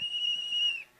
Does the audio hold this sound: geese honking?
no